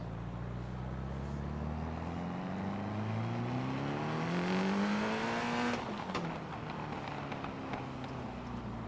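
A racing car engine revs hard up the Pikes Peak hill climb, its pitch climbing steadily before a sharp shift drops it back, loud and continuous with no talking.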